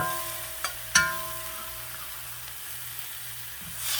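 Scallions, garlic, onions and peppers sizzle together in a pan, a steady soft hiss with a couple of sharp clicks of a utensil early on.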